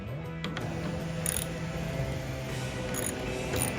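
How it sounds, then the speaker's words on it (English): A socket ratchet tightens bolts on a van subpanel, a steady close clicking run of pawl ticks over low mechanical background, with a few brighter clacks along the way. "And then go in with the socket."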